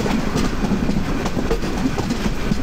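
The Mahanagar Express rolls along with a steady, close, rumbling clatter of wheels on rail and an even drone throughout, with no voices.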